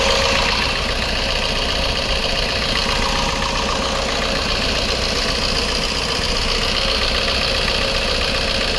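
The diesel engine of a 2019 Maruti Brezza ZDi idles with a steady, close, even drone and a faint knocking texture, heard alone without voices.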